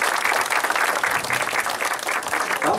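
An audience at a Catholic chapel event with students and teachers claps steadily, a dense, lively round of applause filling the space from start to finish.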